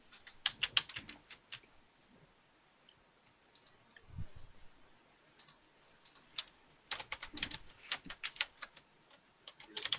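Quiet typing on a computer keyboard during an online student-life webinar: irregular clusters of soft key clicks, close and faint, with brief pauses between bursts and no speech.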